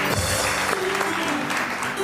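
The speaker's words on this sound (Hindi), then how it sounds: "आंटी के लिए बहुत सारी तालियां बजाओ भाई।" Studio audience applauding on a television entertainment show, dense clapping throughout, close and fairly loud, with some faint voice or background sound mixed underneath.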